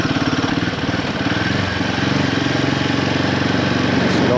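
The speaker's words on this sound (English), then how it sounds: "It's a nice exhaust note." A Royal Enfield Himalayan 450 motorcycle engine rumbles steadily with a throaty, pulsing exhaust note, loud and close, holding a constant idle-like rhythm throughout.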